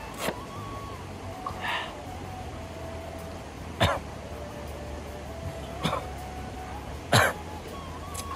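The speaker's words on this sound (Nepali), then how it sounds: "खोकी लगाइरहेको छु ल" A person coughs a few times in short, sharp bursts outdoors beside a mountain stream on a trek toward Everest. The coughs are spaced several seconds apart over a steady background hum.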